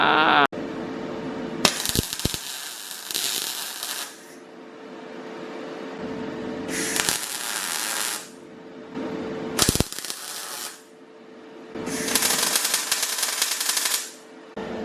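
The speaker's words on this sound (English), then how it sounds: "We're welding two bits of metal together." Tack welding joins two pieces of metal while preparing an S13 track car, heard as four close, crackling buzzy bursts of a few seconds each, separated by quieter pauses, with no talking.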